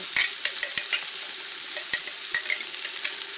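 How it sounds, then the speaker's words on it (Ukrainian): A spoon stirs bean ragout in a pot, with irregular sharp scrapes and clinks against the pot over a steady, bright sizzle of frying. "Перемішуємо все гарно."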